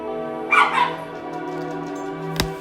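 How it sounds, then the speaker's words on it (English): Pet dogs in a home craft room let out a short burst of yips and growly squabbling, then go quiet under a steady background hum, with one sharp tap near the end. "Oh, my dogs are having a little argument."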